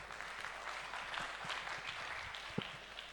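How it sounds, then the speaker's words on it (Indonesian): Steady audience applause at a graduation ceremony, a dense, even wash of many hands clapping at moderate distance for several seconds, with no talk over it. "tepuk tangan dulu"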